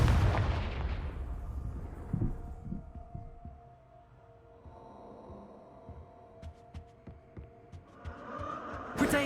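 Confringo blasting spell from the Hogwarts Legacy game, a loud explosive burst at the start that decays into a low rumble, then scattered thuds and crackles of combat before another burst near the end.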